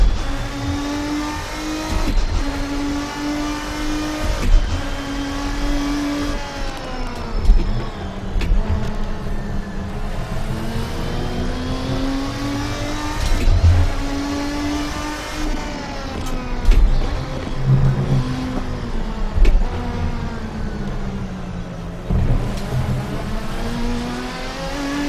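Race car engine in the Assetto Corsa sim game with a GT mod car, revving up and down through gears in a loud, sustained whine that rises and drops repeatedly, with occasional thumps and tire noise.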